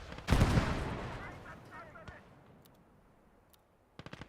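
Gunfire in the war game Gates of Hell: Ostfront, with a loud close burst at the start whose echo fades slowly. Scattered sharp shots follow, then a quick cluster of rapid shots near the end.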